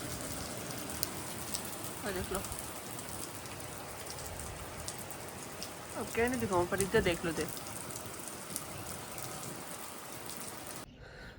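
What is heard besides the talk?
rain falling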